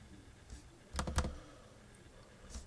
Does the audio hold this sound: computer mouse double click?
yes